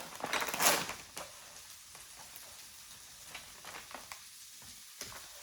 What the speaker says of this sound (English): you really just want to like get this sizzling a little bit